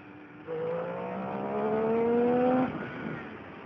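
A Triumph Street Triple motorcycle engine pulls smoothly under acceleration. Its tone climbs steadily for about two seconds, then drops back as the throttle eases, with road and wind noise underneath.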